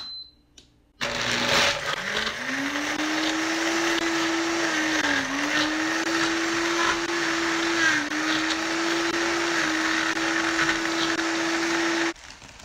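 A Homgeek 1450W professional countertop blender crushing ice on its ice-crush setting gives a loud, steady motor whine with harsh grinding that runs continuously for about eleven seconds before cutting off abruptly.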